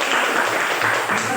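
Applause for a student group in a classroom, a short dense burst of clapping filling the room at steady loudness.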